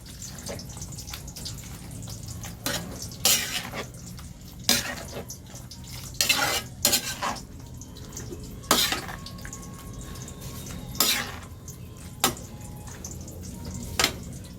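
Chopsuey vegetables with pechay leaves being stirred in a pan, sharp metallic scrapes and clinks of a spatula against the pan recurring every second or two over a quiet background hiss.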